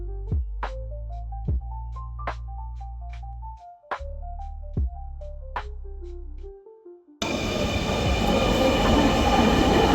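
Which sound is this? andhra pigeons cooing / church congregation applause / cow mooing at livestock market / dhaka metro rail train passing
dhaka metro rail train passing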